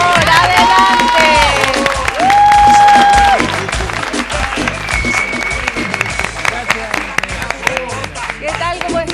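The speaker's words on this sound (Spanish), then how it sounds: "vamos a recibir con un fuerte aplauso a Tito" A studio audience, children among them, welcomes a guest with loud applause and cheering, a whistle-like tone rising over the crowd early on, while a presenter's voice speaks over the clapping.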